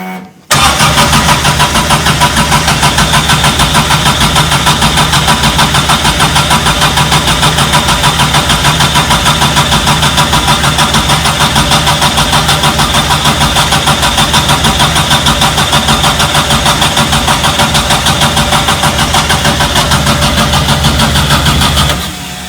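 A Subaru engine swapped into a VW Bus fires up and settles into a steady, loud idle, a constant mid-pitched rumble running uninterrupted for about twenty seconds before cutting off.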